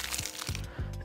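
Freeze sound effect: a sharp crackling, icy crunch with three quick bursts of cracking texture over about a second, loud and close, with no talking.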